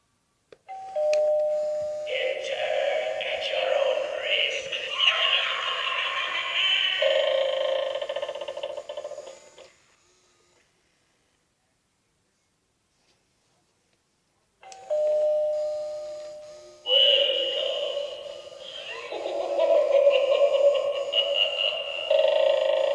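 Asda 2017 Halloween novelty doorbell plays its electronic tune twice, close up and fairly loud, with a short silence between the two runs.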